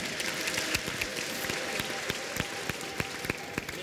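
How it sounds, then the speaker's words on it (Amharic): Steady applause from a church congregation at a prophetic worship service, a dense continuous patter of many hands clapping throughout, with a few sharper claps standing out. "ጭብጨባ"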